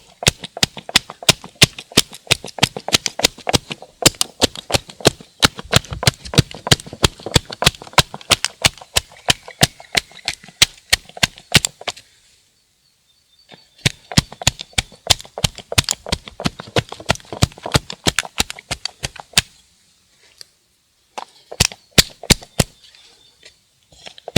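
Soil in a raised vegetable garden bed, freshly sown with parsley, is tamped down in a long series of rapid, sharp, close thuds, pausing briefly twice before the firm knocking resumes.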